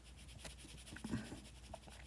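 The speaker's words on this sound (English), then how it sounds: "let me erase this real quick" Board eraser rubbing across a writing board in a chemistry lesson, soft, faint, rhythmic scrubbing strokes with a sharper tap at the very end.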